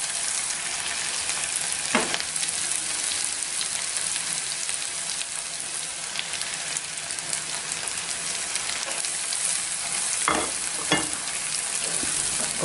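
Spices roast and sizzle in a pan for aloo mogray sabzi, giving a constant close frying hiss with a few sharper crackles and stirring knocks. No one talks.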